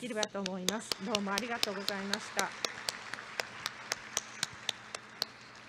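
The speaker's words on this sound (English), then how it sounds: "Join me again in another round of applause for our speakers today" At an international tourism forum, speech comes first, then sparse, separate hand claps ring out at a moderate level, a thin scattering of applause rather than a full ovation.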